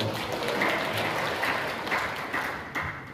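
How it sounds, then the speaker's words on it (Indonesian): Applause from the audience at an anti-corruption outreach seminar for civil servants and village heads in Jayapura: a continuous, fairly distant crowd clapping that fades slightly toward the end, with no speech. "Tepuk tangan kita semuanya."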